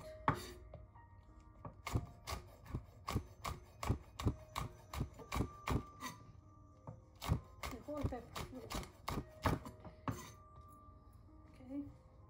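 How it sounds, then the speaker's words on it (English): A knife chops a pepper on a cutting board in a long run of sharp, evenly spaced knocks, close and clear over a quiet background, slowing and stopping near the end. "I'm just going to slice up the pepper and chop it up really good"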